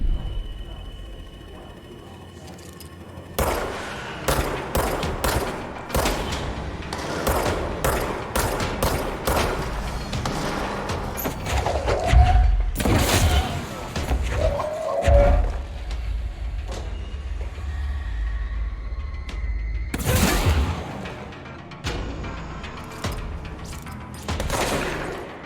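Sniper rifle shots ring out in a video game, several sharp reports spaced irregularly among other bursts of gunfire and clatter, loud and close throughout.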